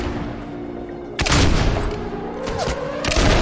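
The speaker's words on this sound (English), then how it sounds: "I'm getting shot at." Gunfire in the Fable 2 video game aimed at the player, a dense burst of loud shots and booms crashing in after a quiet second and continuing through, with a fresh loud volley near the end.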